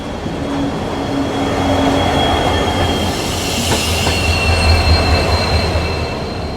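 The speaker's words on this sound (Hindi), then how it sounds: "और आखिरी में 2-2 बैंकर लोकोमोटिव।" Kolkata Sairang Express with a high-capacity parcel van and twin WDG 4D banker locomotives at the rear, rolling loudly and close with a continuous rumble, wheel squeal and metallic rail noise in ghat country.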